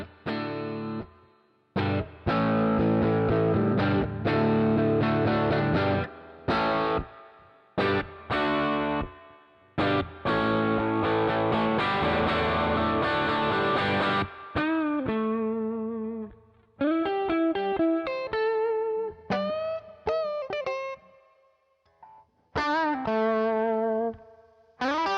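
IK Multimedia MixBox American Vintage effect on a looping instrument phrase, distorted chorus-laden chords in choppy bursts then cleaner, gliding note runs, with no voices.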